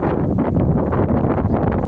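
Strong wind blows outdoors at a mango and fruit plant nursery near Tiruchirappalli, buffeting the microphone with a steady, loud low roar and rustling gusts.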